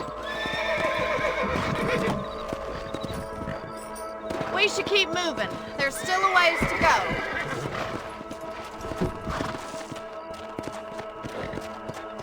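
Horses whinny repeatedly over steady clip-clopping hooves in the video game Red Dead Redemption, with someone speaking briefly amid the bustle and background music.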